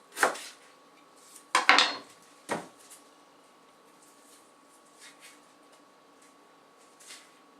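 A knife cuts through a red onion on a cutting board, making a few sharp knocks clustered early on, followed by fainter taps spaced out across a quiet background.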